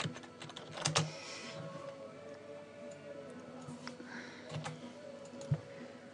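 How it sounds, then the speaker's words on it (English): Text being typed on a computer keyboard, a quick uneven patter of close light key clicks with a few louder taps, steady throughout under a faint background hiss. "we can type some more text"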